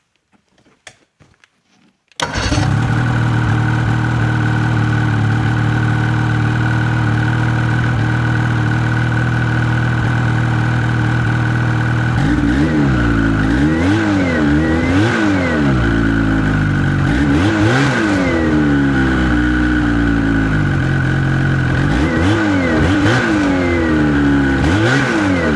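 Ski-Doo 600 ETEC snowmobile engine miked close at its exhaust can idles steadily, then revs repeatedly in rising and falling bursts toward about 4,000 RPM, loud and with no talking.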